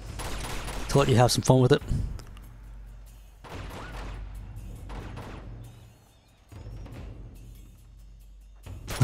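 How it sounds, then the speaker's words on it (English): Enemy gunfire in Uncharted 2: Among Thieves, bursts of shots and explosive cracks spread across the scene at mid distance, partly under someone talking. "Not sure where these bullets are coming from."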